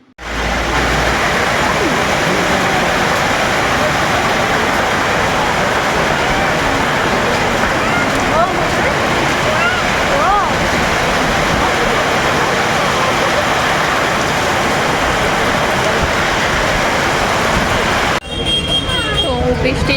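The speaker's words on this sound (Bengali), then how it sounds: "এখনও কত জোরে বৃষ্টি হচ্ছে" Heavy rain pounds down at an outdoor market, a loud, continuous roaring wash that barely changes across the whole stretch, with voices faintly mixed into the downpour.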